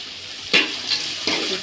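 Chopped onions sizzling in a hot pan with a pinch of salt, a steady frying hiss broken by two louder bursts of stirring scrapes, close and alone without voices.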